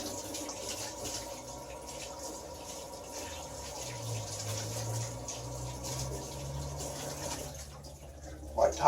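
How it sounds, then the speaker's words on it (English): Hot water runs from a tap in a home kitchen, a steady, moderately loud gushing flow that continues throughout and swells briefly near the end. "Get the water running nice and hot."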